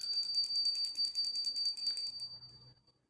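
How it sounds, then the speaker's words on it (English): A small painted metal altar bell rings in a quick run of bright, high tinkling strikes for about two seconds, then stops; it sounds close but fairly soft, with a faint low thump at the end. "Ring a bell to signify the beginning and end of rituals."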